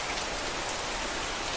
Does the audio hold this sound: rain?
yes